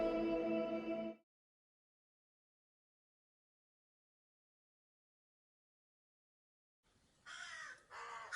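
Crows caw from a tall old tree near a quiet village, a short burst of harsh calls at the start, then long silence before two more caws near the end, fairly clear and alone.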